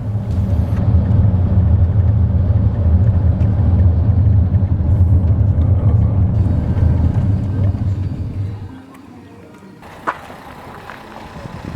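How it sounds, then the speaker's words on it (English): A Baz Bus travels toward Storms River in South Africa, giving a loud, steady road rumble and engine drone from inside, which drops to a softer hum near the end. "We are taking the next Baz Bus to Storms River."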